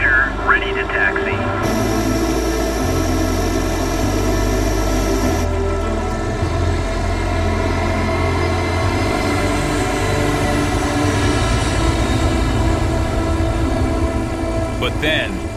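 Aircraft engines drone steadily as a plane waits to taxi for departure at Yellowknife Airport in the Northwest Territories. The engines make a loud, continuous hum with a brief higher whine layered on top near the start.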